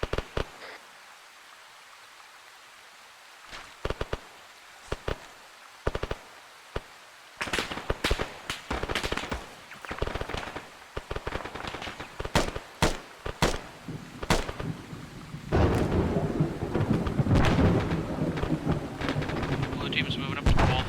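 Grenades and gunfire in ARMA 3 ring out as sharp, scattered shots, the bangs growing denser and louder with a heavy rumbling blast near the end, and voices can be heard in the background.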